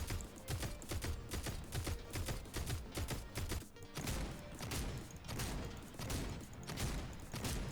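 Rapid bursts of gunfire from a weapon in the video game Fortnite, a fast rattling stream of shots in repeated volleys with brief pauses, loud and close throughout without talk.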